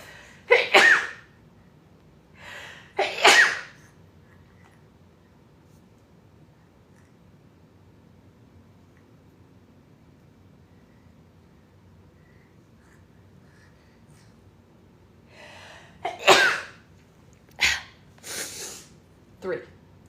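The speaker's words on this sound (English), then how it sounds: "Three sneezes." A person sneezes several times, two sneezes early on, then a cluster of loud, sharp sneezes and breaths near the end, with quiet in between.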